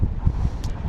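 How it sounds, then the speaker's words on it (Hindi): Strong wind buffeting the microphone atop Kaksang La pass in Ladakh, at 17,851 feet, a low rumbling roar in uneven gusts that fills the whole short stretch. "हवा बहुत तेज़ चल रही है।"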